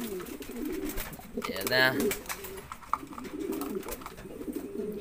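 A German beauty homer pigeon pair, hen and cock, give a short burst of soft cooing close by, with someone speaking briefly around it.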